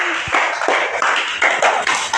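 Children in a classroom clap together in a quick, uneven burst of taps that rise and fade over about two seconds, close and fairly loud.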